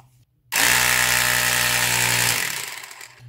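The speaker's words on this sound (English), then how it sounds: "Here we can see the pump compressor, and this turns on." After a brief quiet start, the air pump compressor of a UPK 10 B1 jump starter switches on with a loud, steady motorized whir and buzz close by, then begins to wind down near the end.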